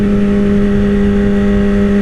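Yamaha R6 sport bike with an electrical fault, engine running loud and close in a steady harsh drone that holds without a clear break or cutout, no speech.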